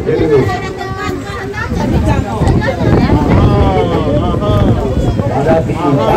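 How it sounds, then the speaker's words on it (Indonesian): Steady wind buffets the microphone at an outdoor football field during a Putra Mandiri Ilambe versus Tanjung Harapan match, a continuous roar mixed with crowd babble while a commentator talks over it. "Angin mulai meniup."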